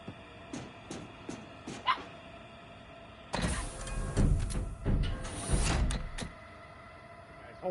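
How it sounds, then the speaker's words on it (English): A dog barks inside a house, starting with a few sharp, spaced yips and then breaking into a louder, sustained run of barking close to the microphone, with no talking. "What is my dog barking at?"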